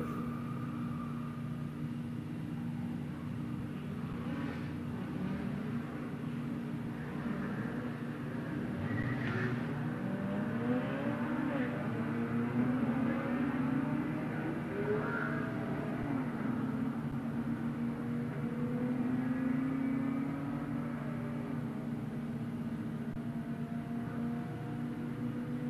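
Drag racing cars, including a 2014 Porsche, running down the strip at a Wednesday night drags event, engines droning and building in a long sustained pass, heard from a distance and fairly faint.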